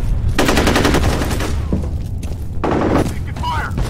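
Rapid automatic gunfire in the shooter FEAR Combat, two loud, close bursts of repeated shots over a constant rumbling background, with voices speaking during the action.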